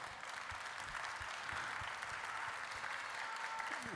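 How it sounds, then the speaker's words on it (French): An audience applauds steadily at a hairdressing and entrepreneurship event, a dense and even wash of clapping that lasts throughout and is heard from a moderate distance. "Oui, vous pouvez applaudir."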